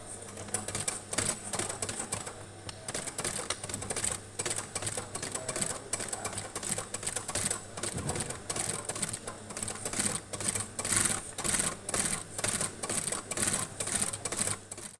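A sewing machine stitching straps for high heel sandals, a steady fast mechanical chatter running continuously at close range, with no talking.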